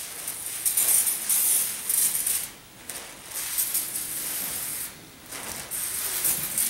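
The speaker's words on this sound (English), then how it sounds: "So I'll spray in there the best that I can, wrap it up tight, and probably spray it off this afternoon." Foaming degreaser cleaner is sprayed onto new traps in a series of close, hissing bursts separated by brief pauses.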